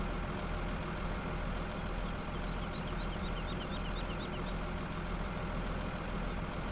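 Heavy rock truck unloading soil at a gold mining site in Farming Simulator 17, a steady loud engine drone with faint high reversing beeps partway through.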